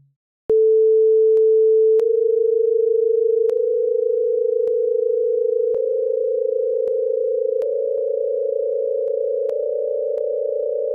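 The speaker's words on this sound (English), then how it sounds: "If we listen to an ascending set of tones based on perfect frequencies for each of the 12 tones" A steady pure electronic tone steps upward in pitch every couple of seconds, with faint clicks at each change and a slight wobble.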